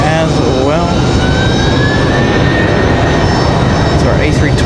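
An American Airlines Airbus A321 rolls down the runway at Raleigh-Durham International, its jet engines producing a loud, steady roar with a rising whine that fills the whole stretch, and a voice briefly talks over it.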